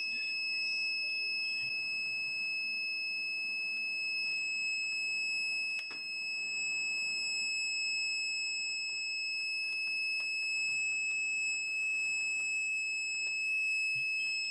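A steady, high-pitched electronic beep from an APC ES500 uninterruptible power supply rings out continuously against a faint background hiss, holding without a break from start to finish.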